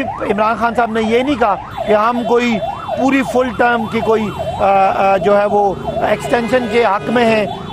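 An ambulance siren wails in rising and falling sweeps behind someone speaking steadily on a roadside. The siren stays close and prominent beneath his continuous talk.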